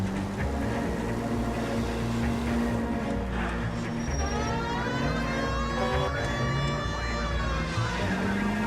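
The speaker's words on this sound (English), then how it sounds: "Using our siren for the wrong purposes." A police car siren in the video game L.A. Noire wails with rising and falling tones over a constant engine rumble and road noise, loud and close throughout.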